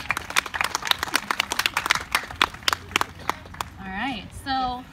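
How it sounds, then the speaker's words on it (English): Audience at a MiraCosta College Filipino American History Month keynote claps for students, a few seconds of brisk scattered applause that thins out as a person begins to speak. "So let's give a round of applause for our students that help us open this."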